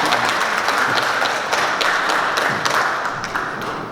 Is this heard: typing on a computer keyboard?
no